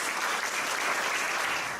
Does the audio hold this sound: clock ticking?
no